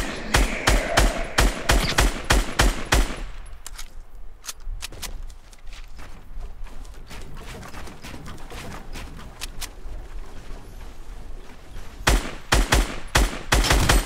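Gunfire in the Fortnite video game comes in rapid, sharp bursts of repeated shots, dense at the start and end with sparser single cracks and quieter game ambience in between.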